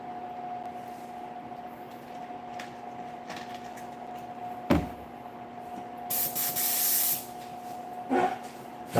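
An airbrush sprays paint on miniature figures in a short close hissing burst over a steady hum, with a couple of clicks around it.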